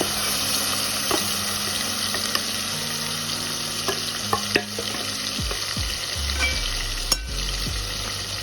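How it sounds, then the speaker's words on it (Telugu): Onion paste for egg curry fries in hot oil, giving a steady loud sizzle with occasional stirring scrapes and clicks from the pan. "సో ఇదే ఆయిల్లో ఆనియన్ని ఆనియన్ పేస్ట్ని వేసేస్తాను."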